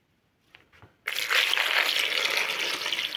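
Eggs washed by hand in a basin of slightly warm, weak potassium permanganate solution, readied for incubation: two soft splashes, then a sudden steady close gush and slosh of water that continues to the end.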